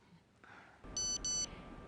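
A mobile phone gives a message alert of two short, bright electronic beeps in quick succession after a soft click, close and clear against light background noise.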